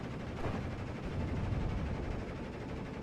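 Machine-gun fire from two MGs raking an MMG carrier in the Steel Division WWII strategy game, a dense, continuous rattle of rapid shots with low booming rumble throughout, loud and steady for the full stretch.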